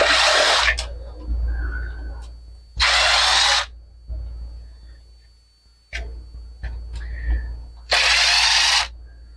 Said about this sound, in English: Take the larger screws out.